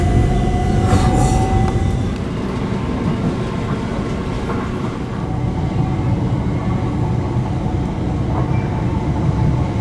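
Inside a moving train near Lingfield, Surrey, steady loud rumble of wheels on track with rhythmic clatter and a brief high wheel squeal near the start, continuous throughout.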